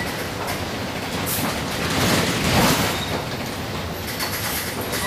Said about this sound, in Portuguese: Vou descer ele também com o freio motor ativado